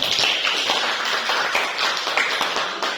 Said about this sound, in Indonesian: Silakan kasih tepuk tangan.